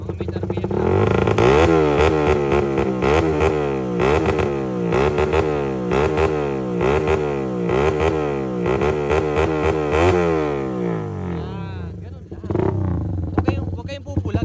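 A motorcycle fitted with a 32mm carburetor revs hard over and over in steady rising-and-falling pulses, loud and close, with someone talking over the engine.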